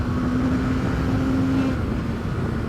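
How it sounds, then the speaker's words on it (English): Honda CBR650R inline-4 motorcycle engine revving steadily and loudly up close, a continuous high-revving drone holding for about three seconds with no talk. "the sound of that engine is just fantastic"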